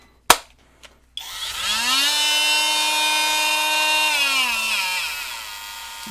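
LAZYLAND 20V brushless cordless oscillating multitool, a couple of sharp clicks, then the motor whirs up to a steady high buzzing drone that holds, then slowly winds down.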